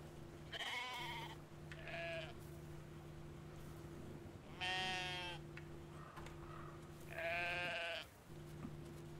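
A sheep in the video game Brothers: A Tale of Two Sons bleats three times, with wavering cries spread across a few seconds over a steady low hum and soft game ambience, and no talk over it.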